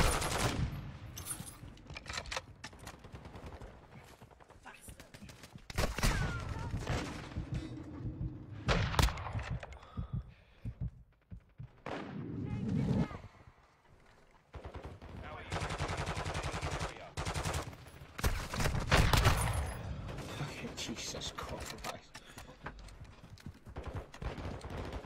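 Video game gunfire erupts in loud, uneven bursts and rapid volleys right after a UAV is called in, with short lulls between exchanges and a voice occasionally audible over the shooting.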